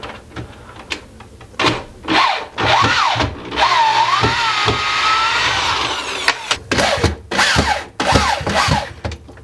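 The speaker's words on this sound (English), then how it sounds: "So I've got a power drill, got it in reverse." Cordless power drill spinning in reverse to back out screws holding a bathroom vanity during a demolition, bursts of whirring that rise and fall in pitch, with a longer sustained run in the middle and short stop-start pulses on either side.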